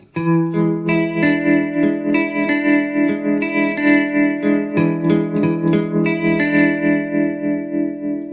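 A clean electric guitar plays chords with a pulsing tremolo that swells and fades rhythmically, dry and close with no reverb.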